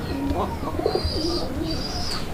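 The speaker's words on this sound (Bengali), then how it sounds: "কবুতরগুলো প্রত্যেকটাই ডাকবে" A Raj-golla domestic pigeon, kept outdoors, gives a few soft, low coos close by, with faint higher chirps and a steady background hiss.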